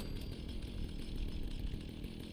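A chainsaw revs in the video game Fallout, a continuous rough, gritty engine roar that runs steady and fairly loud for the whole short stretch without any talking.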